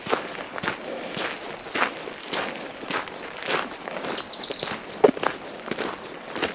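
Steady footsteps crunch along a Camino Frances walking trail in Galicia, close and continuous, while a few thin bird chirps and calls sound faintly in the background partway through.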